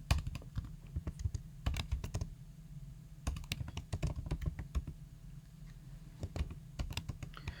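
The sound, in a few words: typing code on a computer keyboard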